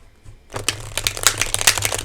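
A tarot card deck is shuffled by hand, starting abruptly with a rapid crisp riffle of cards flicking and slapping together, close and clear with no talking.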